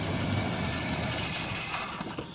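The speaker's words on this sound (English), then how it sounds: "she's idling on her own" A 1969 Imperial's engine idles on its own with no choke fitted, a steady, close, low rumble with broadband vibration holding evenly throughout, easing slightly toward the end.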